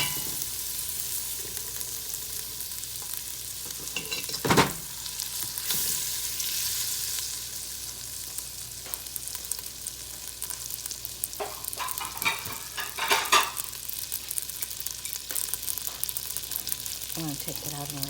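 Cheese melting and sizzling in a pan for Southern macaroni and cheese, a continuous close frying hiss with occasional utensil clinks and stirring scrapes throughout.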